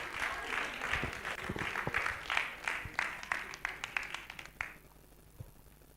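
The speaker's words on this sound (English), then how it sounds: "Please put your hands together." Audience applause at a youth empowerment summit prize announcement, a steady burst of many hands clapping that thins into scattered claps before fading out.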